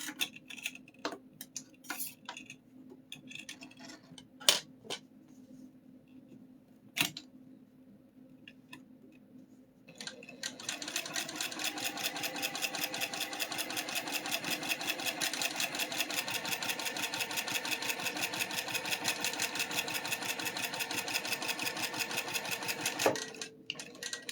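A home sewing machine first gives scattered ticks and clicks, then runs steadily with a fast, even mechanical chatter for about fourteen seconds before stopping, close and moderately quiet.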